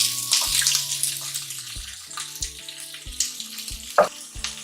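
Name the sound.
chopped onion, ginger and garlic frying in hot oil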